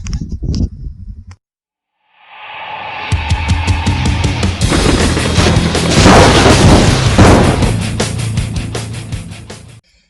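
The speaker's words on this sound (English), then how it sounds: "you hear a gun go off right behind you" A single sharp blast breaks a brief silence, followed by a long rolling boom that swells and slowly fades over several seconds.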